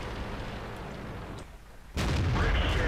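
Tank cannon fire in the World of Tanks video game, with a roaring game soundscape before a sudden loud heavy blast of a shell striking a KV-5 heavy tank, with no talk.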